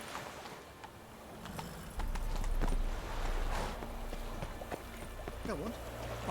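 Hooves of Roach, a horse in The Witcher 3 played on Xbox One X, clip-clopping at a running pace under game music and effects, with a brief spoken line over it.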